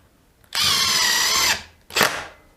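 A Makita DTD171 impact driver on speed 2 drives a 40mm screw: a loud, close, steady one-second burst of rattling hammering, then a brief second short burst, with no talking.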